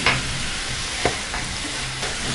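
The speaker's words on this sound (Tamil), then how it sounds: "இது வந்து நல்லா சுருண்டு வர அளவுக்கு நல்லா வதக்கிட்டே இருக்கணும்." Grated coconut and jaggery filling with cardamom is stirred in a pan, giving a steady close sizzle punctuated by a few soft scraping strokes of the spoon.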